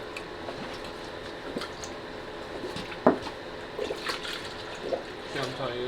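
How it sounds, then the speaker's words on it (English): Coolant pours into the cooling system of a rebuilt KA24DET engine, a quiet steady trickle with occasional soft glugs and squishy bubbling, while people talk faintly nearby. "So now let's fill this bitch up with coolant."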